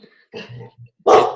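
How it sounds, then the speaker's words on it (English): A single dog barks nearby, a couple of low gruff woofs followed by one loud sharp bark, alone without talk. "a dog."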